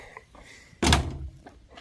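Engine compartment door of a KU45 Chinese mini excavator swinging open, a single loud metallic thunk with a brief rattle, close and alone after a quiet lead-in.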